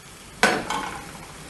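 Lamb with celery and mushrooms cooking in a pan gives a single short burst of sizzling as it is stirred, then fades quickly into quiet.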